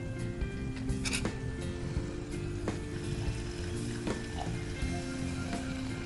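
Water poured into a pan of masala paste cooked down in ghee, giving a steady close sizzle and bubbling with a few faint clicks and knocks throughout.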